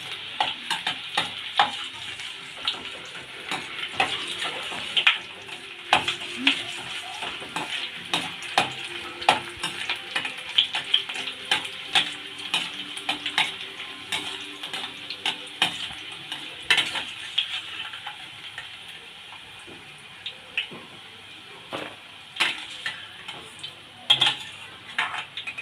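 Garlic frying in oil until golden for dry pepper chicken, a steady sizzle with frequent clinks and scrapes of a spoon stirring against the pan, fairly close and continuous throughout.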